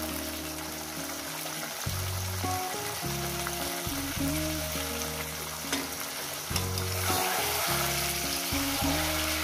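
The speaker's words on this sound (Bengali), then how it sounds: "চিকেনের পিসগুলো দিয়ে আমি একটু ভেজে দেবো।" Chicken pieces sizzle steadily as they fry in a pan for a simple chicken kosha, with recurring stirring scrapes and bursts of louder crackle close by, no talking.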